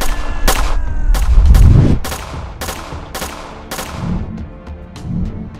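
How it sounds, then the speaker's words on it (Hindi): A blasting gun fires a loud, rapid string of sharp shots as a sound effect, about a dozen bangs in quick succession, with a deep rumble early on. "फातिमा ब्लास्टिंग गन से फायर करने लगती है"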